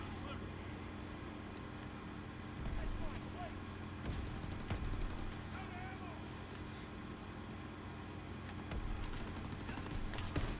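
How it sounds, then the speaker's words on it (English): Shotgun blasts in Call of Duty WW2 multiplayer on Xbox One, repeated sharp booms mixed into dense game noise of gunfire and explosions, with a voice talking over the action. "I've been lighting up with this damn shotgun"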